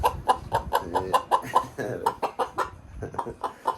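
Repeated short, rhythmic clucks from a hen, close by, with a few breathy, uneven pauses between bursts.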